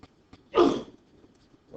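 A single short, sharp sneeze bursts out in a quiet classroom during a math lesson, loud and isolated against faint background noise.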